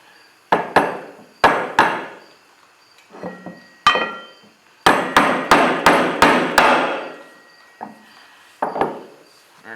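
A small 1/8 inch steel dowel pin is hammered into hard machine jaws with sharp metallic taps, first in scattered pairs and then as a quick run of six or so strikes, with a few lighter taps after.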